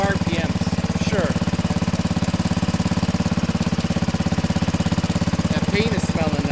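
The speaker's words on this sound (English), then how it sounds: "Does it sound better? Oh yeah, it's a lot quieter." A Sears Suburban 12 garden tractor engine idles at low RPM through a shusher muffler, a steady, fairly loud rhythmic putter that runs the whole time, with people talking faintly over it.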